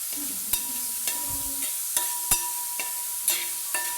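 Shallots and onions frying in a kadai with ginger and garlic for chicken curry, a soft sizzle broken by regular sharp clicks and scrapes of stirring.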